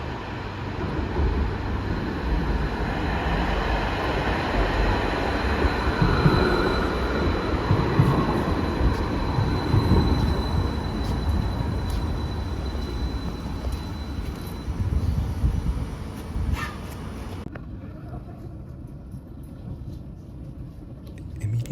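Interior ride aboard a Bergen Bybane light rail tram, steady rolling rumble and wheel noise with faint squeals, continuous for about twenty seconds before easing toward a stop, light talk faintly underneath.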